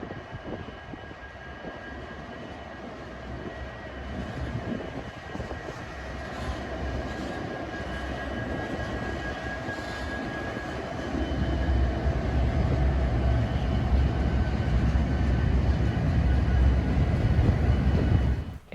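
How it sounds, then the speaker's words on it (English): A long coal freight train led by three 90 class locomotives passes Sandgate Station on the Hunter Line. Its steady rumble and wheel roar build and grow heavier as the train draws nearer. "a whole train that's coming from Kooragang Island. It's headed by three 90 class locomotives."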